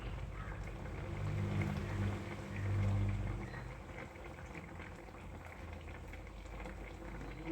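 Steady bubbling of sugar syrup boiling in a pan, a low churning roll that swells briefly then settles, with no voices.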